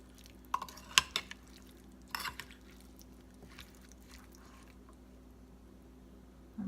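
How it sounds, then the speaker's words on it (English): A bowl of bruschetta tomato mixture with balsamic vinegar stirred by hand, giving a few soft wet clinks and squelches near the start, then quieter scraping in a still room. "So I'll just stir it together."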